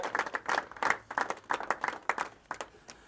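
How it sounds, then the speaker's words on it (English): Audience applause at a fishing match prize presentation, a steady patter of many hands clapping at moderate volume for about three seconds, irregular bursts with no speech over it. "let's give him a round of applause."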